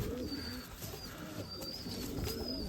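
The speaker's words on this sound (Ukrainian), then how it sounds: "Ось тоже голубочок." Crested, shaggy-footed flying pigeons coo softly in a loft, with repeated low cooing phrases and faint higher chirps over a steady background hum, no voices.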